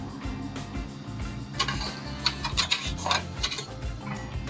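Seasoning rubbed by hand onto a ribeye roast for prime rib, a steady soft rasping and rubbing close up that swells and eases in short strokes, with a few light clicks, no talk.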